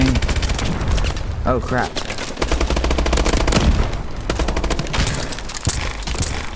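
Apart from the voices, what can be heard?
gunfire in the video game Call of Duty: Advanced Warfare, Exo Survival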